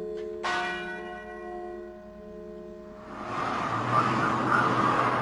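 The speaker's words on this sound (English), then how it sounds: "as the bell that tolls here every morning testifies" Memorial bell at Katyn in the Smolensk region tolling once, loud and close, its ringing tone slowly fading before passing road traffic rises underneath.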